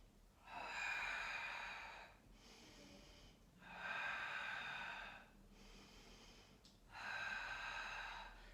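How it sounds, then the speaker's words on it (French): Three long, steady exhalations blown out through the mouth during a full-body Pilates workout, each breathy whoosh lasting over a second with quiet pauses between, close and soft with no talking. "soufflez par la bouche"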